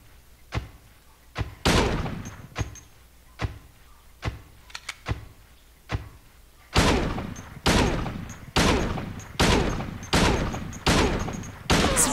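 Gunshots from the video game Silent Hill 2, a run of sharp, loud blasts: several scattered single shots, then a steady sequence of about eight evenly spaced heavy reports with ringing tails, no talking.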